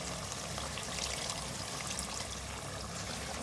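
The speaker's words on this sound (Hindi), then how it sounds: "हाफ कप में पानी डाल दूँ इसमें।" A steady stream of water pours continuously into a cooking pot of chicken korma, a close, even splashing rush with no pauses and no voices.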